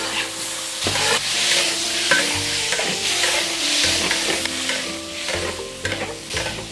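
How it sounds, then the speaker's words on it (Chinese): Ginger, garlic and tomatoes fry in oil in a wok with a loud, crackling sizzle. Repeated scraping stir strokes clatter on top at an uneven rhythm, and no one speaks. "锅里放一点油，再把姜末蒜末放下去，再把西红柿放下去"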